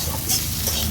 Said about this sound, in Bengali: শাকটা আর কিছুক্ষণ নেড়ে চেড়ে নেব।